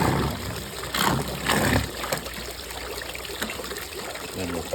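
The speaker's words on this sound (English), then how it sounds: "Turn the machine on and drop it in so that the bag gets rid of all the air." Bag dropped into spa water to push the air out, giving a few gurgling splashes and trickling, bubbling water over a steady machine hum, with a voice talking faintly in the background.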